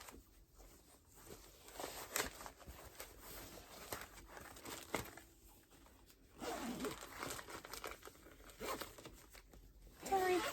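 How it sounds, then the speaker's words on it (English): A zipper rasps repeatedly in short close pulls, quiet and crisp, mixed with faint crinkling and handling noise and no talking. "Sorry, zip, zip, zip."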